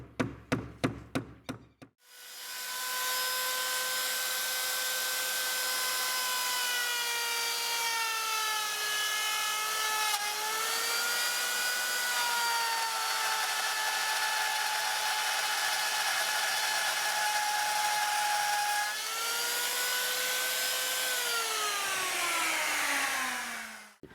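After a few sharp knocks, a router cuts into a wooden beaver log lamp base with a loud, sustained high-pitched whine that sags and recovers as it bites, briefly pausing near the end before a final descending wind-down.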